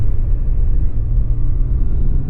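A Kawasaki ZZR 1100 motorcycle engine idles roughly and misfires after hydrostatic lock, a steady close low rumble with uneven pulsing throughout.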